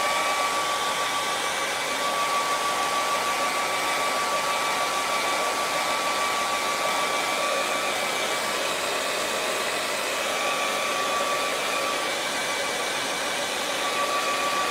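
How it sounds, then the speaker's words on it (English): A hair dryer blows steadily over wet acrylic paint on a snowy mountain painting, a loud, continuous airy whoosh with a faint high whine held unchanged throughout, with no talking. "Now I'm going to dry that."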